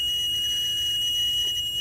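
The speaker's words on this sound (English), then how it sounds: "excuse the annoying beep" A steady high-pitched electronic alarm tone from a Kohler 350 kW generator controller sounds continuously throughout, signalling an under-voltage fault, with a low mechanical hum underneath and no talking.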